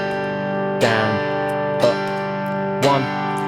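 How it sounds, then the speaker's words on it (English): Acoustic guitar strummed in a basic down-up pattern, three distinct strums about a second apart, each ringing out sustained chords, close and clear with no talking. "That's our introduction to basic strumming patterns."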